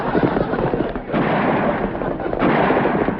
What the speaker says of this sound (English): They shooting at us.